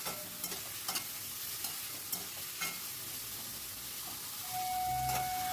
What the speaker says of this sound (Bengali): এবারে আমি এর ভিতরে দিয়ে দিচ্ছি কেটে রাখা টমেটোটা দিয়েও আবারও সব কিছু ভালো করে মিশিয়ে নিচ্ছি